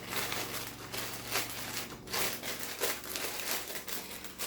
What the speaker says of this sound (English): I keep them in a plastic bag.